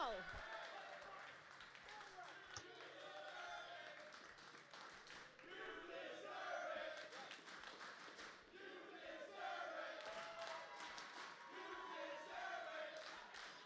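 Live audience at a Schmoedown movie trivia title match in New York City chanting together in loud rhythmic waves, steady throughout, with applause and crowd noise mixed under it.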